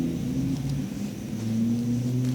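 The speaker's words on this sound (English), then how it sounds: "My goodness, I hear a car." A car passes outside, heard as a steady low engine rumble with a faint tonal hum, moderately loud and continuous, without talk.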